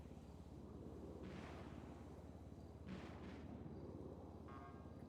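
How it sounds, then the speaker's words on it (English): Muffled bursts of distant video game gunfire crack out a few times over a steady low rumble, with no voices. "There's a lot of gunfire happening in that direction right now."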